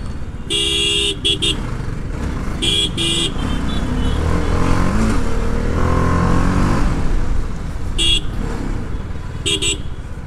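Motorcycles, a Bajaj Pulsar NS160 and RS200, ride through busy traffic, engine drone rising and falling steadily while car horns toot in short bursts around them throughout.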